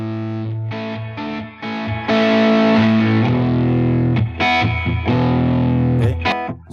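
Electric guitar played through a Dream 65 amp plugin preset: distorted chords and short picked phrases, loud and close, with sustained ringing notes and brief stops between strums, no talking.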